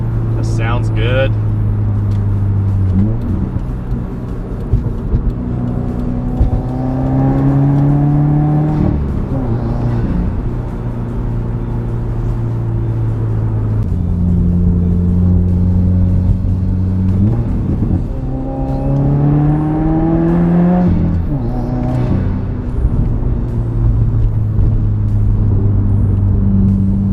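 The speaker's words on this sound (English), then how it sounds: "Some accelerations with the windows down." Subaru WRX fitted with a Perrin cold air intake revs and accelerates through several gear pulls with the windows down, a steady close engine drone rising in pitch, dipping at shifts, and climbing again.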